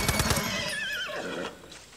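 A white horse in the video game Far Cry 6 gives a loud, close whinny that wavers and trails off, with a few hoof clops at the start.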